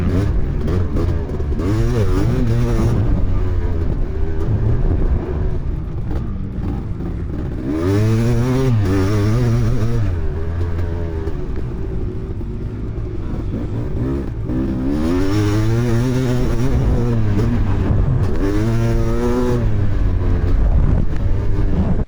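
A Kawasaki KX500 500cc two-stroke motocross bike at Glen Helen, its engine loud and raspy, rising and falling in repeated revving surges with wind buffeting the microphone.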